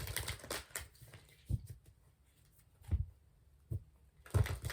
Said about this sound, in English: So let's do some initial shuffling.